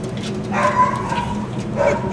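A couple of dog barks and yelps ring out from dogs on a ferry deck over a steady low rumble of background noise.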